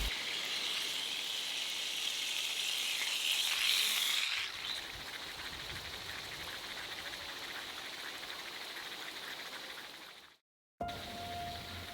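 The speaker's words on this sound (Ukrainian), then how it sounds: "Викладаємо м'ясо і смажимо до утворення золотавої скоринки." Steak sizzles and crackles in a hot pan with a constant hiss, loudest at first, then settling into a steadier frying sizzle.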